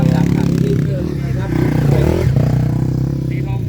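Racing motorcycle engines rev steadily and loudly through a women's class race on a Thai circuit, with a Thai commentator talking over the continuous drone.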